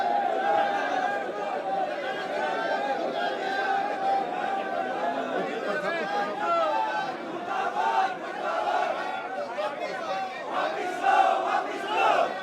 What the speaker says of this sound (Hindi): IMT वापस लो के लगातार नारे।